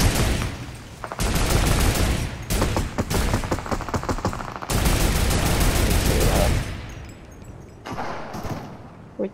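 Rapid gunfire crackles through a duos match in a shooter video game, with dense repeated bursts over several seconds before the shooting thins out and fades near the end.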